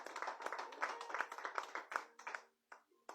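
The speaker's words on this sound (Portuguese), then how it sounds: "Pode bater palmas para Jesus" A church congregation claps for Jesus during a forceful sermon, a quick rhythmic run of sharp hand claps that fades into a few scattered final claps.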